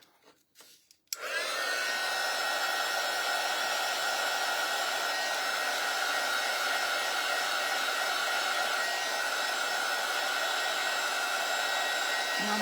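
A hair dryer drying a freshly painted piece of artwork starts after a second of handling noise and then runs without a break, a loud, close, even whoosh with a steady motor whine and no voices.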